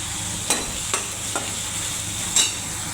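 Garlic cloves frying in a pan with onions and chilies give a steady broadband sizzle, broken by a few sharp clinks of a stirring utensil against the pan.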